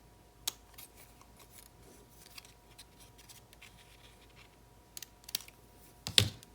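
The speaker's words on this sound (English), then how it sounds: "I just have to snip the edges." Scissors snipping the edges of die-cut paper for a truck shaker card, heard as a few sharp, close clicks spaced across the quiet, with a cluster of louder snips at the end.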